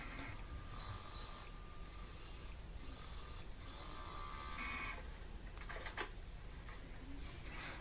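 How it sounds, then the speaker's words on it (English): A sewing machine runs an edge top stitch along a piece of a plus-sized Victorian corded corset, giving a close, continuous mechanical clatter in rapid rhythmic ticks, with brief pauses and a sharper clack near the end. "we're going to go ahead and do the edge top stitching on the other side"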